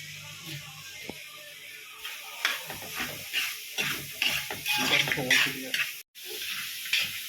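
Curry leaves frying in a pan of beef fry, a steady crackling sizzle broken by stirring scrapes and spoon knocks that rise and fall through the stretch.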